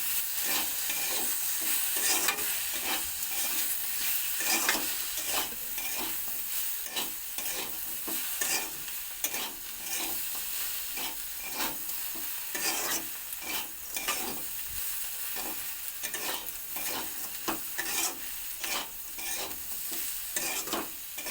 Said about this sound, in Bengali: এগুলো সমস্ত কিছু গুঁড়ো মশলাগুলো একসঙ্গে ভেজে নেবো